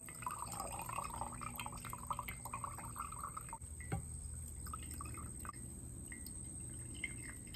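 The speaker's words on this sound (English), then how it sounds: "So we're gonna slowly pour this juice." Fruit juice poured slowly from a bulky pot through cheesecloth into a small jar in a rustic dirt-floor kitchen, a steady close trickle and dripping running continuously with faint background hum and no talk.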